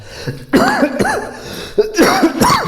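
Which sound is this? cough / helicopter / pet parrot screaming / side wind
cough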